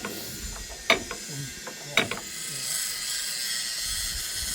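A ratchet jack lifting steam locomotive frames gives a few sharp metallic clicks in quick pairs against a steady background hiss, with pauses between the strokes.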